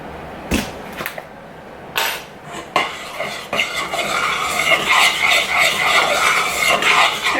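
A spoon stirs a marshmallow mixture in a pot, starting with a few sharp clinks and taps against the side, then turning into a continuous close scraping and swishing.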